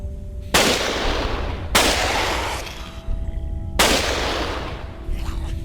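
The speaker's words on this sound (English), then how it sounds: "I'm liking this gun. I tell you, I'm liking this gun. The sound is ridiculously noisy." Three loud, booming gunshots ring out from a gun in the survival game Cataclysm: Dark Days Ahead, each a sharp blast followed by a long decaying tail, spaced a second or two apart.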